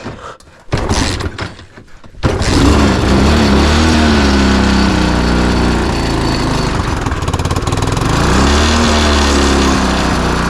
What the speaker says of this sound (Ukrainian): Як бачите, новий мотор подає признаки життя.